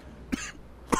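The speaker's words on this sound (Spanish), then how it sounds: "perdón ahí por un poquito por la tos" Two short coughs from someone gaming, with a brief throat-clearing rasp between them, close and fairly loud against a quiet background.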